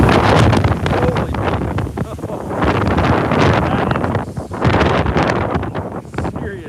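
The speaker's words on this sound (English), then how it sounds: "that is serious wind. About blows you over." Strong hurricane wind in southwest Florida buffets the microphone in loud, continuous roaring gusts that rise and dip, with faint voices under the blasts.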